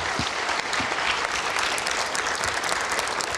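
Steady applause from a studio audience at an Indonesian 2024 election talk show, dense clapping that holds at an even level throughout without any talking.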